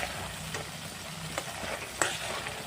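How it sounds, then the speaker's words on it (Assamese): Onion, garlic, ginger and peanut paste fry in hot oil while being stirred, giving a steady close sizzle with a few louder scraping stirs; nobody speaks. "এইখিনি অলপ টাইম তেলত ভাজি ল'ম।"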